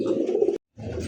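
Domestic pigeons coo in a loft where Arabian cock pigeons feed their chicks, two close, low, throaty coos split by a brief silence.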